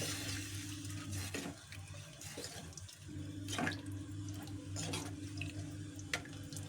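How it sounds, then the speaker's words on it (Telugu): Water from a glass pouring and splashing steadily into a cooking pot of dal, with a few sharper clinks and sloshes partway through, close by. "ఇప్పుడు వాటర్ అయితే వేసేస్తున్నా 1 గ్లాసు"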